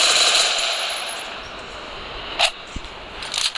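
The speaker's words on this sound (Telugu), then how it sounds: "ఏడబ్ల్యూ అయ్యా బ్రో, దాని సౌండ్ అట్లుంది" AWM sniper rifle gunfire in a mobile shooting game, heard as a few sharp shots spaced apart over a soft background wash, with no talk.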